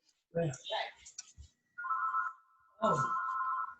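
A telephone rings backstage at a radio show, a sustained electronic ring tone that starts midway and persists after a short burst of speech, with a voice talking over its end.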